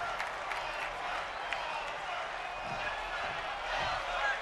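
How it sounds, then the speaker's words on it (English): A large arena crowd in the WWE 2K22 wrestling video game roars and murmurs continuously as a steady, dense wash of crowd noise, with a commentator talking over it. "Big crowd atmosphere is here."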